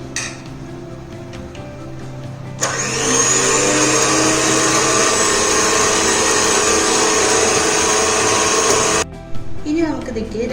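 An electric hand mixer beats pineapple cake batter with sunflower oil, starting abruptly as a loud, steady high whine that runs for about six seconds before cutting off, with quieter kitchen sounds before and after.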